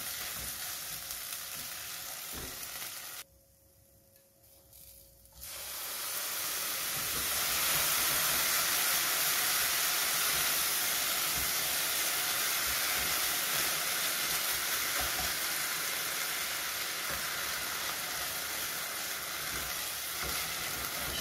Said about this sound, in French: Je vais verser donc petit à petit donc, le bouillon.